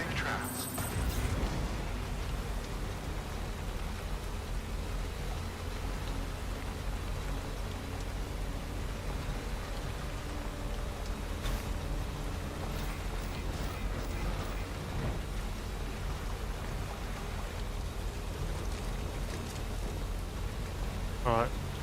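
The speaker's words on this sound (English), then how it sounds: "I'm still affected by the the rain, so that's one thing we've got to be careful about" Steady rain falls in the video game Death Stranding, a continuous, even hiss of raindrops across the whole stretch with a few sharper spatters.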